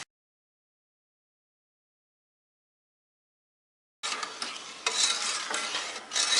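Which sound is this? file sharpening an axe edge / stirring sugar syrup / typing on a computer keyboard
stirring sugar syrup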